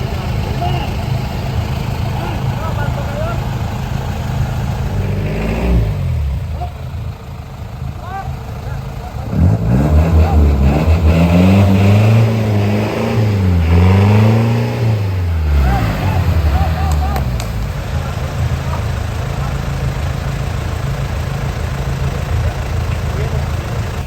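A car engine idles and then revs in rising and falling surges while the vehicle is pulled out of mud at a mountain campsite, loud and close, with people talking over it throughout.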